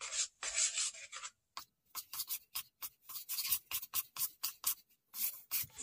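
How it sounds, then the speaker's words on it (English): Quiet, rhythmic scraping and rubbing as bread dough is mixed with flour by hand in a bowl for New York style pizza, in short repeated strokes separated by brief pauses. "I'm just going to mix this up in the bowl until I have very little amount of dry yeast or dry flour remaining"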